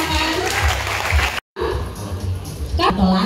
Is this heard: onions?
no